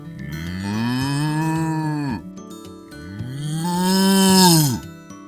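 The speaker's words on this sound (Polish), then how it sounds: "To zwierzę to krowa." A cow gives two long, loud moos, each swelling and then dropping off, with a short pause between them and no other sounds around them.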